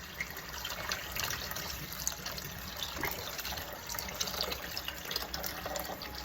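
Steady water running from a tap, a continuous splashing hiss that holds even throughout.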